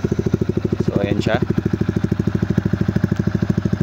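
A Yamaha R15 V3 fitted with an SC Project S1 exhaust idles nearby with a fast, even, throbbing pulse. A voice speaks briefly over the engine.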